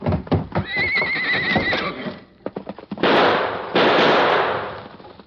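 A horse whinnies loudly in an old western radio drama, a long shrill neigh near the start among sharp pops like gunshots, followed by a burst of loud hissing noise.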